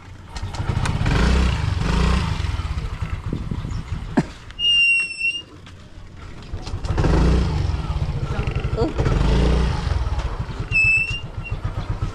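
A motorcycle engine runs nearby with a low, steady, pulsing rumble that swells and dips over several seconds, and a couple of brief high chirps cut in briefly.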